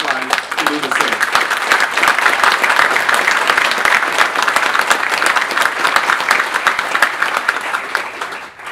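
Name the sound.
audience applause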